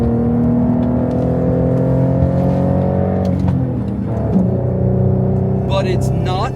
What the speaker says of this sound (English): I am driving a Porsche with 6 cylinders and 3 pedals.